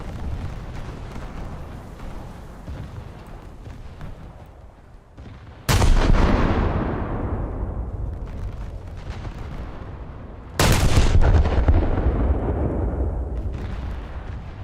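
Two heavy booming salvos of naval cruiser gunfire in the World of Warships video game, each a sharp loud blast followed by a long rolling decay, with softer battle noise in between.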